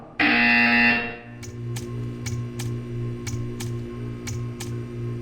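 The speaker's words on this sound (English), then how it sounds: "When you hear the buzzer, stare at the art." In the Portal 2 art-staring test chamber, a loud, harsh buzzer blares for about a second, followed by a low electrical hum with a series of quiet, regularly spaced ticks.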